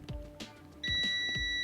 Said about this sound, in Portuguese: Escala de bip, a gente vai fazer o teste desse botão para saber se ele está em curto.